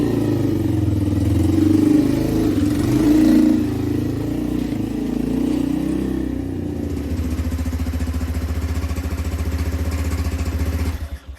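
A Lexmoto Street motorcycle runs on a short test drive, its engine revving and pulling through changes before settling into a steady, rapid putter near the microphone, loud throughout with no voices.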